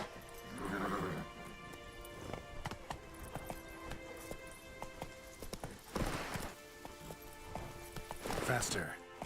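Horse in The Witcher 3 game, hooves clip-clopping at a steady run with two loud whinnying neighs, one early and a louder one near the end, while a rider's voice occasionally speaks over it.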